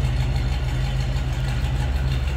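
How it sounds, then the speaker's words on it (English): A 1949 Cadillac Series 62 sedan's 331 V8 idling, a steady low rumble with even, regular pulsing, close and continuous with no talk. "This kind of sounds like you'd expect that Cadillac V8 to sound."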